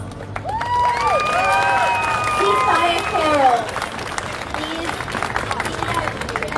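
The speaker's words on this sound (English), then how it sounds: "Please, another round of applause." A rally crowd at a Palestine demonstration applauds steadily, a dense wash of clapping with voices singing and calling out over it before the noise thins toward the end.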